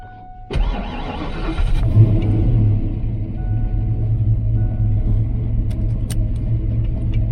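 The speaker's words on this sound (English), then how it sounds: "let's get in the car, go to the house" A car engine with SVE 170cc heads and a Calypso clone starts with a sudden burst, then settles into a steady low rumble with gear rattles as the vehicle idles and drives, close and loud.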